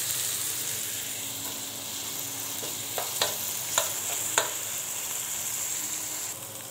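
Shrimp and garlic fry together in a pan with a steady, even sizzle, broken by a few sharp utensil clicks against the pan near the middle.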